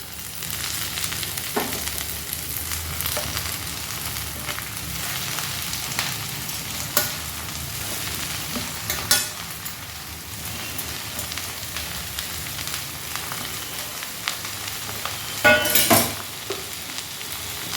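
Chopped red amaranth greens fry with onions in a pan, giving a steady rain-like sizzle and occasional stirring scrapes and clinks, close and fairly even throughout.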